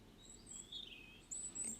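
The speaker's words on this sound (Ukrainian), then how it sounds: "Зимуючі птахи, горобець" House sparrow chirping in winter, a few thin, high chirps of moderate loudness over a soft background, with a brighter pair of calls near the end.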